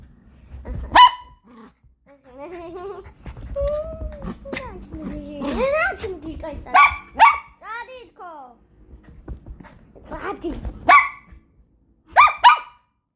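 A dog barks in several sharp, loud bursts spaced across the scene, mixed with people talking nearby.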